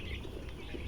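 Young poultry chicks about eight or nine days old chirp steadily in a farm shed, a continuous high twittering with no pauses, fairly quiet and without talk.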